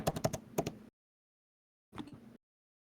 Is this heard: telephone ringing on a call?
no